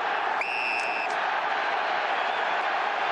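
A large football crowd at an AFL match between Port Adelaide and Sydney roars in a steady, dense wash of noise across the stadium, with a brief whistle near the start.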